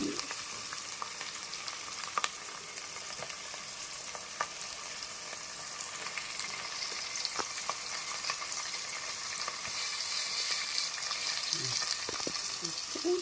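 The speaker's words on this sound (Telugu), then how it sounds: "ఇలా కొద్దిగా మనకి ఫ్రై అయితే చేపల కూర బాగుంటుంది. పచ్చిమిర్చి వేసేసుకుంటున్నాం." Fish head curry sizzles and fries steadily in a pan with green chillies, a continuous hiss of hot oil with occasional crackles and stirring clinks, close and even throughout.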